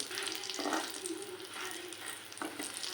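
Chicken samosas frying in a pan of hot oil give a continuous bright sizzle with bubbling bursts as they are turned, close and fairly quiet.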